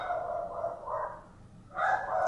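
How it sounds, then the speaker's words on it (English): A dog gives a few muffled, drawn-out whining barks, faint and somewhat distant, with a louder grumbling bark at the end. "Dog complains about everything."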